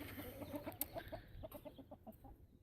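A rooster on a small farm clucks in a run of short, quiet, rhythmic calls, one slightly sharper peep standing out near the start, with soft farmyard background.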